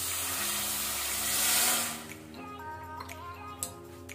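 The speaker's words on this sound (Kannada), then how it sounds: "ಸ್ವಲ್ಪ ವಾಟರ್ ನೀರು" Water pours into about 500 grams of sugar in a pan over a lit flame to make syrup for badusha, a steady splashing rush that swells briefly, then settles into softer trickling with faint clinks.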